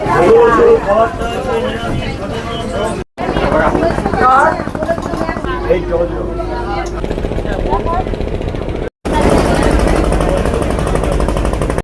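A boat engine drones and chugs steadily as the boat pulls away from the dock at Mayapur, with a few brief dropouts. People's voices carry over the engine noise.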